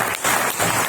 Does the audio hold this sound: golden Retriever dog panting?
no